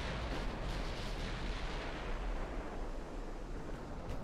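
Naval artillery fire in the warship game Ultimate Admiral Dreadnoughts, a dense, continuous roar of heavy gunfire and explosions blending into one loud rumbling wash with no voices.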